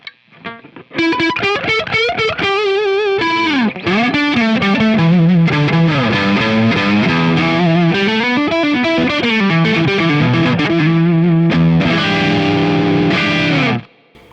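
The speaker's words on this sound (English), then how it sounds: "So if we have a great neck pickup sound like this" A Gibson Les Paul electric guitar on its neck pickup with distortion plays a continuous, loud, warm lead phrase of sustained bent notes and quick runs for about thirteen seconds, close and unaccompanied by speech.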